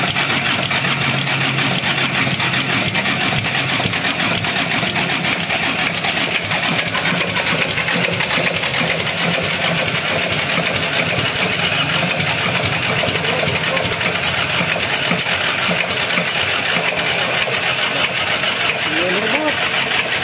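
Mercedes C240 engine running on a test stand, a steady loud mechanical drone with a constant idle hum throughout, while people talk over it.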